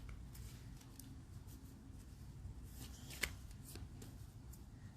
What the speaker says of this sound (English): I'm just going to shuffle these real quick